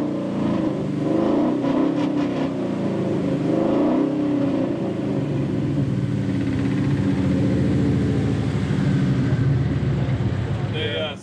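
A 2005 Chevrolet Silverado truck engine rumbles steadily and loudly throughout, with a throaty, uneven exhaust note through open exhaust cutouts; voices can be heard talking over it.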